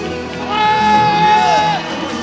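A church congregation erupts in celebratory shouting and whooping, a loud swelling crowd roar with one sustained high cry riding over it before the noise eases slightly.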